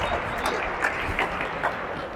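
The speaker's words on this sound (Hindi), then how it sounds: "इसके लिए तो ताली बजा सकते हैं यार" Audience applause at a workshop held at the NCC Headquarters in Delhi, steady, dense clapping from a crowd with a few louder claps standing out.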